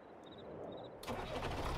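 In Farming Simulator 22, a quiet, steady tone runs with faint repeating beeps, then a stalled tractor engine abruptly cuts in with a rough rumble, close and fairly loud.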